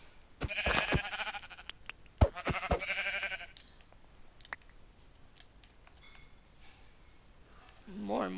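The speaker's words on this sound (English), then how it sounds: "More and more sheep keep spawning" Sheep bleating in the Minecraft video game as more sheep spawn, short game bleats and clicks in the first few seconds, fairly close, with quieter game sounds afterward and a low rising tone at the end.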